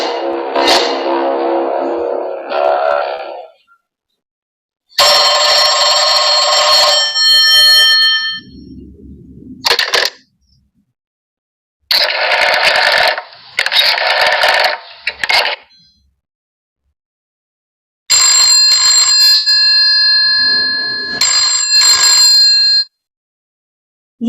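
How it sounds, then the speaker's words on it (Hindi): An old-fashioned telephone bell rings loud and close in repeated bursts, each a few seconds long and separated by short silences. "ये टेलीफोन की आवाज थी। पुराने जमाने में इस तरह का टेलीफोन इस्तेमाल किया जाता था।"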